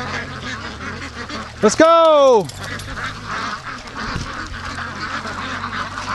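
Muscovy ducks at a lake give one loud, short burst of calls close by, with a person talking over a noisy outdoor background.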